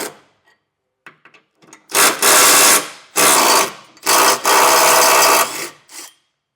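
A 15mm socket on a ratchet or impact tool removes the two tow hook bolts from a 2023 Ford Transit T250 frame, giving a few loud, close bursts of rough grinding mechanical noise broken by short pauses.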